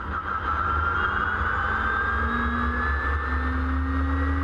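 A Formula E Spark race car with a McLaren electric motor gives a high electric whine rising steadily in pitch over a low motor hum, a smooth whistling tone with no combustion roar.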